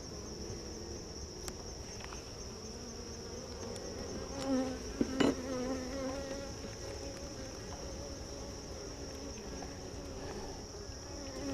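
Honey bees hum steadily around an open hive during an inspection in September while goldenrod blooms, a continuous close buzz with a few louder passes near the microphone.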